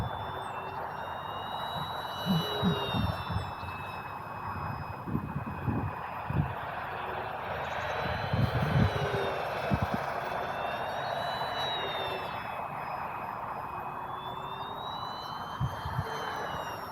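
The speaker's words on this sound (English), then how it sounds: "And thankfully there's no odd noise from the prop, even in turns, and when I push this plane. It's just evenly sounding, rather low pitched" An FMS CJ6 warbird RC airplane, 1200 mm wingspan, on a 3S brushless motor with propeller, flies overhead as a steady, even, fairly low-pitched drone that rises and falls in pitch as it passes at moderate distance.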